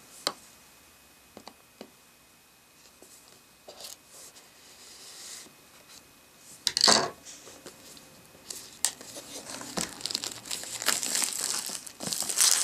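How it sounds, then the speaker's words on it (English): Plastic wrap comes off a gray ASUS Eee Pad Transformer Prime keyboard dock, with close crinkling and scattered rustles that build into a dense, continuous crackle over the last several seconds. "let's just get this plastic off of here."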